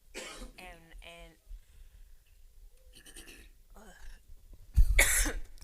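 A person coughs sharply once near the end, loud and close, after a stretch of quiet speech and throat sounds in a church setting.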